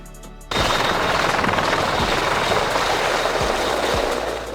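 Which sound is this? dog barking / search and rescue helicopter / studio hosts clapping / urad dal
search and rescue helicopter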